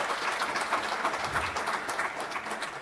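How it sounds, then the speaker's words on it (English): An audience at the Istanbul Forum 2024 applauding steadily, dense overlapping claps forming a continuous wash of noise throughout. "let's give them a round of applause."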